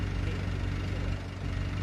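The engine of a suction pump on a septic sludge tanker boat drones steadily as it pumps out a septic tank, a constant, dense mechanical rumble heard close up.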